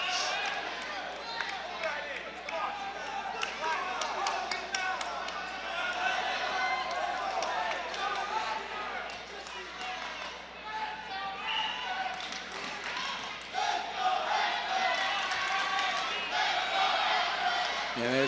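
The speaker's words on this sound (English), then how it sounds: "And there's the crowd from Lawrence cheering," A home crowd at a high school wrestling match in Lawrence cheers and shouts in bursts, with surges near the end, under near-continuous play-by-play commentary and gym floor noise.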